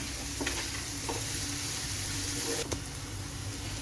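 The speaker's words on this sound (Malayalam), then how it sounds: "ഒരു 1/4 ടീസ്പൂൺ ഉപ്പും കൂടെ ചേർത്ത് നമുക്ക് നന്നായിട്ട് ഇതൊന്ന് വഴന്ന് വരുന്നിടം വരെ ഇളക്കി കൊടുക്കണം." Onions with a pinch of salt sautéing in a pan for a Kerala-style green peas curry. A dense, constant sizzle is broken by a few scraping stirs of a spoon, with no talking.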